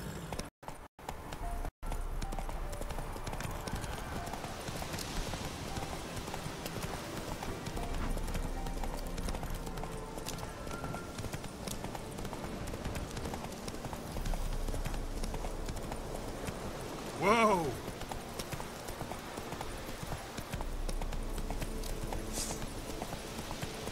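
Horse hooves clip-clopping in The Witcher 3 video game, a steady soft trot under game ambience and music, with a brief whinny-like sound partway through.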